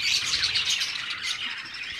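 Budgerigars chirping while eating egg food, a dense, continuous twittering of several birds close by with no voices.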